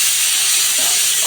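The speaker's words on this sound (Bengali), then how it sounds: "ভালো করে আমি মশলাটাকে কষাবো" A ground ginger, garlic, onion and tomato masala paste sizzles and fries in hot oil in a pan, a steady bright hiss running without break.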